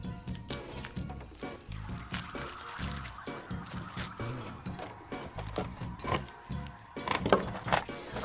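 Dig a Dozen dinosaur egg toys fizz and crackle in bowls of water, a busy run of wet pops, drips and squishy bubbling, close and fairly loud throughout with no talk over it.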